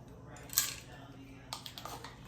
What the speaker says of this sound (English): So I have my measuring spoons.